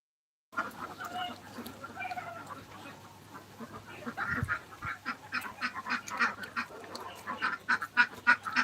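Ducks quack repeatedly in a loose, busy chorus at moderate distance on a rainy-day farm, growing denser toward the end, with no talk over them.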